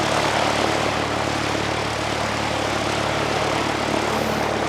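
A Cessna light aircraft idles or taxis near a runway, a steady propeller engine drone with a constant low hum and broadband rumble, loud and continuous throughout.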